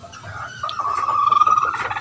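A green-legged chicken clucks in a steady run of short, pulsing calls, fairly close, over a quiet outdoor background.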